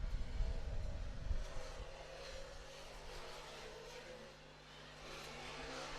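Formula Student race car on an autocross run: a distant engine drones and rises and falls across the track, with heavy low rumble at the start easing into a softer, steady whine.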